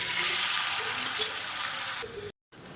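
Marinated chicken sizzles and crackles steadily in hot oil, a continuous hiss with occasional pops, briefly cutting out near the end before resuming.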